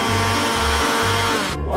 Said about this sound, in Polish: Zrobię to szybko za pomocą miksera.